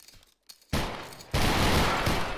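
A massed musket volley in Battle Grounds III, a line of black-powder muskets firing together in a long crackling roll that follows a short quiet, loud and close.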